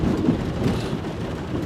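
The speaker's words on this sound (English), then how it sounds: "it is a drizzly, rainy day. Horribly rainy day." Rain falls steadily on a drizzly day, with a low rumble of thunder running underneath. It forms a continuous, moderately loud wash of sound with no talking.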